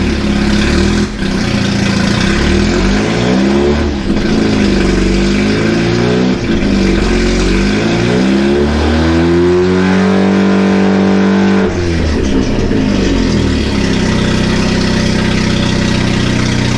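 A big-turbo Mazda FC RX-7 rotary engine under full throttle: loud, continuous revving with repeated rising sweeps and gear changes, close and steady throughout, no talk.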